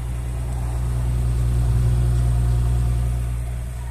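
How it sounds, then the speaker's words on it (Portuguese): Audi A6 3.0 TFSI quattro, 2019/2020, idling with its exhaust note: a steady, quiet low rumble held at an even level throughout, with no revving and no voices. "Vou escutar aqui o ronco do escape. É bem silencioso"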